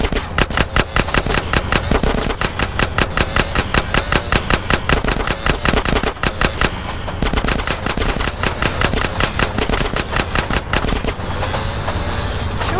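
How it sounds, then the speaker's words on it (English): Rapid automatic gunfire in GTA San Andreas, fired from a moving train: long loud bursts of machine-gun shots with a brief pause midway, and rail rumble underneath. "I'm about to pop these fools! Roll up on them, CJ, so I can get a shot!"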